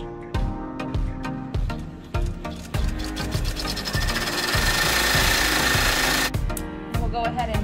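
An embroidery machine runs a tack-down stitch around a unicorn fabric applique on a birthday shirt, a steady fast rhythmic needle chatter with a few short pauses, close and moderately loud.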